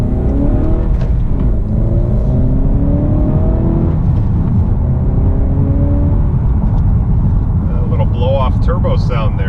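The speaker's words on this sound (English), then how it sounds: "Turbo sound there." A 2018 Honda Accord Sport 2.0T with a six-speed manual accelerates, heard loud from inside the cabin. A rising engine drone carries a climbing turbo whine, and a brief whooshing flutter comes near the end.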